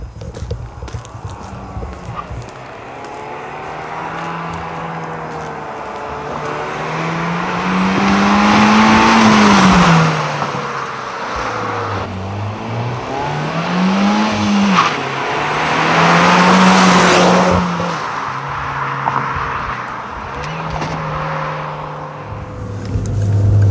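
Audi RS6 engine and exhaust at a car contest, heard close and loud in several accelerating surges, each pitch rising and then dropping off, with no talking over them.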